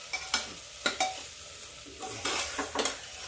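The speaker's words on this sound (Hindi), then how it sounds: "ये देखिए 5 मिनट हो गया है मेरी सब्जी भूनते हुए।" Potato vegetable curry with masala frying in a pan gives a soft sizzle, broken by a few scraping stirs of a spoon against the metal, with no talking.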